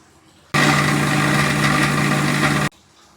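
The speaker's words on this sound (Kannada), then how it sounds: "ಒಂದು ಮಿಕ್ಸಿ ಜಾರ್ಗೆ ಕೊತ್ತಂಬರಿ ಸೊಪ್ಪು ಪುದೀನ ಸೊಪ್ಪು ಎರಡು ಹಸಿಮೆಣಸಿನ್ಕಾಯಿ ಚೆನ್ನಾಗಿ ಗ್ರೈಂಡ್ ಮಾಡ್ಕೊಳ್ಳಿ" A kitchen mixer grinder whirs steadily as it blends coriander leaves, mint and two green chillies with a little water, a loud continuous motor drone starting abruptly, holding for about two seconds, then cutting off.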